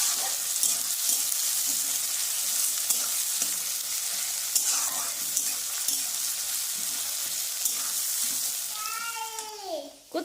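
Onions frying in a pan for a mutton dish, stirred steadily: a continuous close, bright sizzle with scraping strokes throughout, and a short cat-like meow rising near the end.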